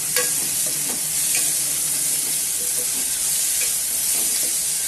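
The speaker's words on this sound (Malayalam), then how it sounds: "ഈ സമയത്ത് നമ്മൾക്ക് ചതച്ച് വെച്ചിരിക്കുന്ന ഇഞ്ചി വെളുത്തുള്ളി ഇട്ട് കൊടുക്കാം." Crushed ginger and garlic fry in a pan with a loud, continuous sizzle, close to the ear, broken by the scrape and clack of stirring throughout, with no voices.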